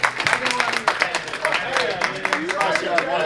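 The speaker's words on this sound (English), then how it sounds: "Round of applause for both of them" Audience at an adult convention panel applauds with dense clapping and cheers, loud and steady throughout, mixed with a few voices talking over it.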